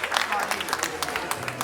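A few people clap loosely after a musical performance, the claps close and uneven, with talking over them.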